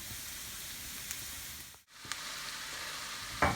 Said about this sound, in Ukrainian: А капусточка тим часом обжарюється